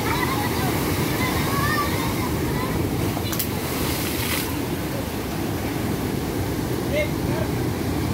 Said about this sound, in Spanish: Un poderoso oleaje.